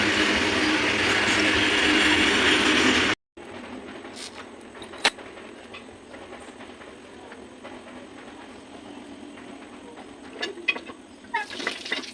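A large freight train rumbles loudly and broadband for three seconds, then cuts off, leaving quieter mechanical clanks, rattles and scattered knocks from the railway cars.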